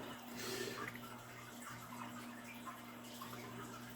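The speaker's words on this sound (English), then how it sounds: "So you just dump your water." Water is poured out of a gold pan during outdoor gold panning in Colorado, a soft splashing wash that swells early and then trickles and drips quietly, with no voices.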